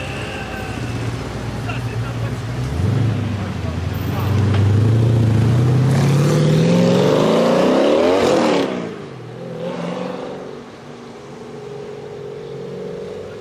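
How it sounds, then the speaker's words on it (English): A road-going race car, built with air conditioning and power steering, revs loudly as its engine climbs through rising harmonics to a sustained peak, then drops off into a rougher idle while voices talk over it. "So that's one of the road cars"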